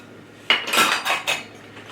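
Breadcrumbs and Parmesan cheese being stirred in a bowl with a metal utensil, a few close, bright scraping and clinking strokes after a short quiet start.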